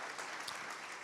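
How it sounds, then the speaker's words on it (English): Applause from a dinner audience at a sports hall of fame enshrinement in St. Louis, a dense, steady wash of many hands clapping at once, loud and continuous through the moment with no clear gaps. "there was so much clapping, I couldn't hear your question."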